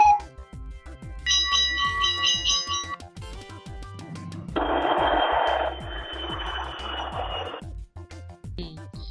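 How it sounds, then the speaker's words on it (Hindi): After a short run of bright chiming tones, an airplane roars past, a dense rushing noise that lasts about two seconds before dropping away, with a soft rhythmic backing throughout. "ये आवाज तो हवाई जहाज की है,"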